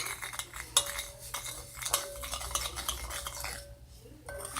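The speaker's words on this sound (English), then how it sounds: "Next, you're going to stir that together." A utensil stirs a homemade slime mixture in a bowl, giving quiet, irregular scraping and light clinks against the container, close and soft, with a low background hum.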